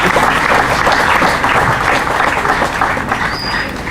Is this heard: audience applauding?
yes